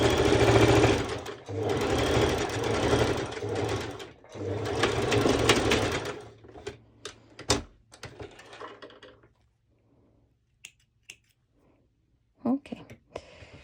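A sewing machine stitches straps into the strap channel of activewear shorts in three loud bursts of fast motor whirring, followed by quieter handling clicks and rustling of fabric.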